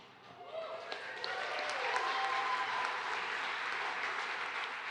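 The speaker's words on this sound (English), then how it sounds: "Don't clap too hard" Wedding guests applaud steadily and fairly loudly at a reception toast, a dense wash of clapping from many hands that carries on without a break, with a little talk and a few thumps mixed in.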